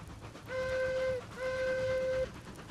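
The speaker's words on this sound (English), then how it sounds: "Blow the whistle just because we can." Two long, clear steam locomotive whistle blasts from a Shay locomotive in the video game Railroads Online sound one after the other, with a short gap between them, over a faint background rumble.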